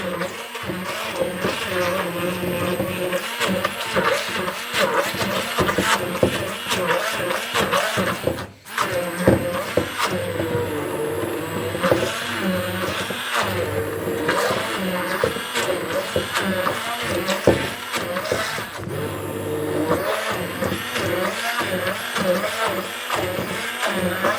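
A Silvercrest SSM 350 A1 hand blender whirs continuously in turbo mode, a loud, steady motor drone that wavers slightly as it works, with one brief dip partway through.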